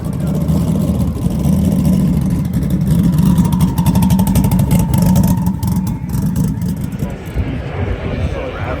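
A drag racing truck engine revs loud and steady at a TX2K25 drag event, a dense low rumble that holds throughout with people talking underneath.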